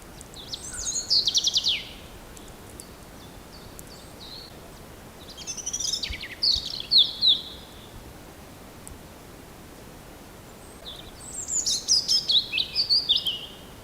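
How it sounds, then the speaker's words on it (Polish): Three separate phrases of high, thin, tumbling European robin song with pauses between, sweet trills and warbles at moderate volume over a faint hiss. "A teraz śpiew rudzika."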